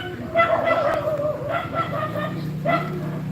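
Several local dogs at a Thai temple bark and yelp at a visiting dog, a busy overlapping chorus somewhat distant, mixed with someone talking nearby.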